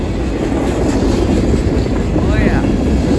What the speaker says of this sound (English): Watch the train. CSX Green Express now.